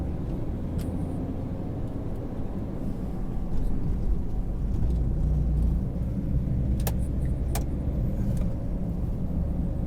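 A car drives through the streets of north San Jose, California, its steady engine rumble and road noise filling the span, swelling slightly mid-way with a couple of faint clicks, with no talk.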